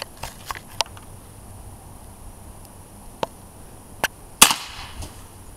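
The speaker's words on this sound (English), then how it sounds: "About to shoot this Coca-Cola can" A Crosman Powerline 880 air rifle fires at a Coca-Cola can, giving a few sharp, dry cracks and snaps spread over a few seconds with one louder hit near the end, set against quiet outdoor hiss.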